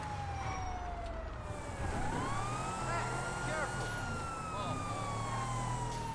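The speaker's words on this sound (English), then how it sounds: "what I like about the lifeguard vehicle is the sirens" Wailing emergency sirens on a lifeguard vehicle in GTA Online, rising and falling sweeps sounding continuously and loudly over steady engine and road noise, with a voice talking alongside.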